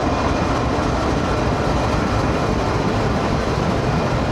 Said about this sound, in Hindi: अमेरिकन बीस्ट, जनरल इलेक्ट्रिक और 4500 हॉर्स पावर का डीज़ल लोकोमोटिव है